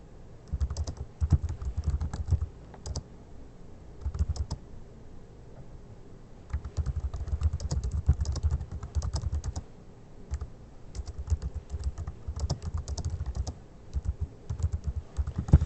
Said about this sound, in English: Type in whatever you want.